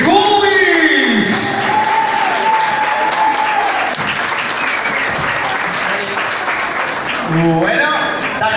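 Loud audience applause greets the comedy duo Tribubis as they come on stage at an event, steady dense clapping for several seconds with voices and a little music or speech sounds cutting through near the end.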